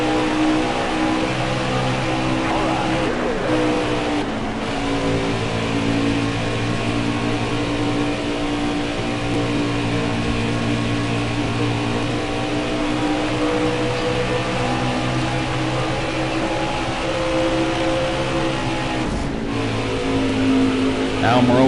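NASCAR Cup Series race cars at Darlington, a steady loud engine drone with layered harmonics held throughout, a few brief shifts in pitch, and a voice talking over it.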